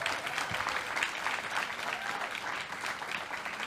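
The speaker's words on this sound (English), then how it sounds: "Let's give her a round of applause." A crowd applauds at a regular caucus meeting with steady, sustained clapping from many hands, moderately distant and even in level for its whole length.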